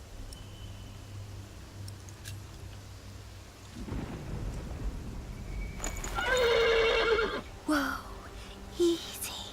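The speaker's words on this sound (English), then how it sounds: "The horse nearly woke the guard." A horse in a video game whinnies sharply and loudly, followed by shorter snorts, over a low stormy background of rain and rumble, with a brief spoken exclamation nearby.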